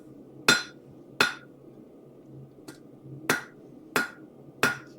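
A forging hammer strikes a metal ladle being finished, six sharp ringing blows at uneven intervals, one of them lighter, loud and close over a steady low hum.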